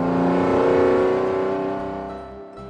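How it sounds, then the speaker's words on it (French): A truck approaching along a road, its engine a loud, steady roar that swells at first and then gradually eases off toward the end, with no voices. "Un camion approche, déterminé"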